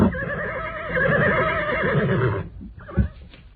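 A horse gives a long, loud, close whinny that fades out, followed by a single dull thump, in a radio drama scene with no talk.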